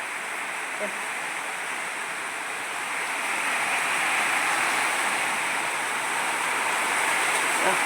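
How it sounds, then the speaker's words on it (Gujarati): Heavy village rain driven by strong wind makes a dense, unbroken roar that swells louder partway through and stays steady, with no clear voices. "બહાર પણ ઊભા રહી શકતા નથી એટલો વરસાદ છે"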